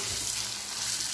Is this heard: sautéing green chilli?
yes